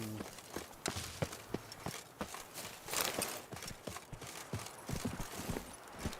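Steady clip-clopping hooves of a horse at a walking pace in a video game, fairly close, with a soft neigh and faint background ambience.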